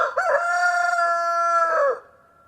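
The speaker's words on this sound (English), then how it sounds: "The rooster crowed again, this time a little boldly." A single loud, close rooster crow, a long ringing cock-a-doodle-doo lasting nearly two seconds before cutting off to silence.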